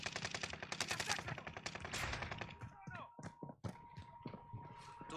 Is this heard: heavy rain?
no